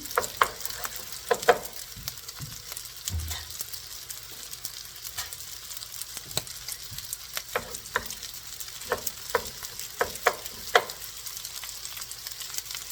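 An egg frying in a pan alongside shrimp fried rice gives a steady, soft sizzle with scattered sharp ticks and scrapes of stirring, moderately close and with no talk.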